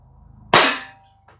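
A single sharp, loud crack from an ASG 1911 US-C CO2 blowback BB pistol fired at a target, with a short reverberant decay and a faint metallic click just after it.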